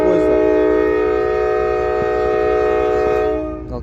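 The Kyzylorda-Kokshetau passenger train sounds a long, loud, steady horn chord at close range, holding for over three seconds before cutting off.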